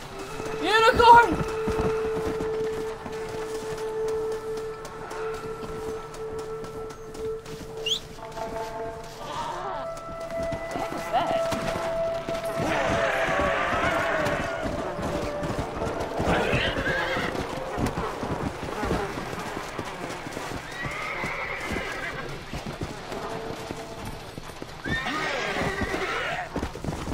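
A unicorn in the video game Red Dead Redemption: Undead Nightmare lets out a loud, close whinny, then gallops with rhythmic hoofbeats among crashing game effects, while a voice talks over parts of it.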